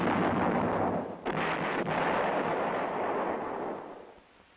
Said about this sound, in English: The same tube as on the M102 is employed on the self-propelled 105mm howitzer M108.